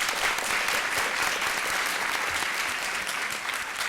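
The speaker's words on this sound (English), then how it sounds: "so let's give her a round of applause" An audience at a school governing board meeting claps for a student art award winner, a steady, dense round of applause held at an even level throughout.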